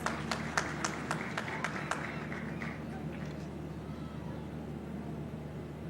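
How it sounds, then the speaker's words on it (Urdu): A few scattered, faint claps from an audience sound in a distant, reverberant hall, fading out after about two seconds over a steady low hum. "ہاں تالی بجا کے دکھاؤ"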